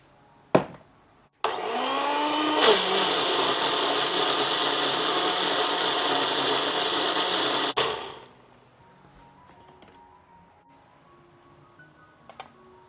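Small electric blender grinding chili sauce with water and vinegar, a loud steady whirring roar that runs for several seconds after a click and then stops abruptly, followed by quiet clinks.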